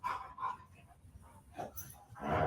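Several dogs bark in short, distant bursts, with yips and a whimper, faint and spread across a few seconds.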